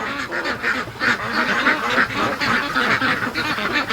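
Free-range ducks and ducklings crowded in a barn, quacking and honking continuously in a dense, close chorus of overlapping calls with no talking.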